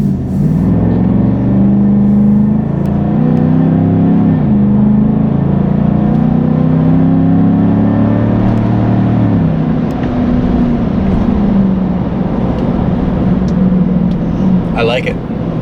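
Heard from inside a 2019 Chevrolet Silverado fitted with an AFE cold air intake, with the windows up, the engine drones as a loud, steady low rumble that rises and dips as the truck accelerates, and someone talks over it.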